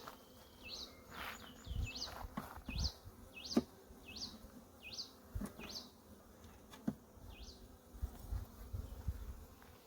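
Honey bees swarm around a hive frame lifted out during an inspection, giving a steady, close buzzing hum with repeated short, high rising notes over it.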